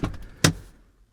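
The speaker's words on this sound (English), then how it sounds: "So now let's go ahead and open the door." A Ford Explorer car door opens with a short mechanical latch click followed by a sharper clunk, close and brief, then fading to quiet.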